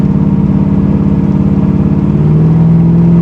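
A 500 hp 1987 Chevy Monte Carlo SS V8, out on its first drive, drones loudly and steadily from inside the cabin, its pitch rising slightly near the end.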